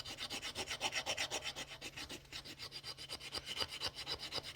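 Spine of a Mora knife scraping repeatedly across a piece of wood, a steady run of quick, rasping strokes close by, each pass sharp and gritty with no talking.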